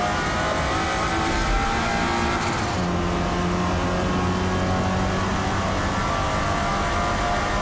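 Lotus Esprit racing around Daytona in Forza Motorsport, a loud steady engine drone with sustained high-revving tones and a gear shift partway through, close and continuous with no talking.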